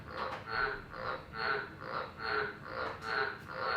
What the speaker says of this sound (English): Stupid frogs.